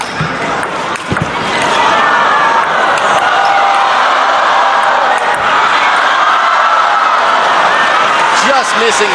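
Spectators at a 2014 China Open men's doubles table tennis match roar and cheer after a long lobbing rally, a loud sustained crowd wash with clapping, rising after a brief opening burst and holding steady throughout.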